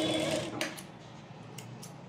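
A sewing machine stitches a pleated petticoat in a tailoring lesson, running in a steady whir that starts loud and eases to a softer hum, alone with no talk.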